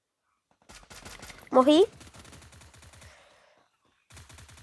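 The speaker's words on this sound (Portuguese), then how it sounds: "só submetralhadora Thompson" Rapid bursts of Thompson submachine gun fire ring out in a video game, sharp repeated cracks in quick strings separated by short gaps, with someone speaking briefly in the middle.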